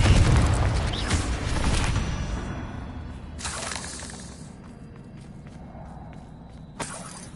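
Confringo blasting spell in Hogwarts Legacy, a loud booming explosion with shattering debris up front, followed by further bursts and crackles fading under game ambience.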